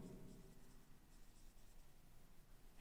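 Chalk or marker writing a heading on a board during a chemistry lecture, a continuous low scratchy scraping heard alone at a steady, moderately quiet level.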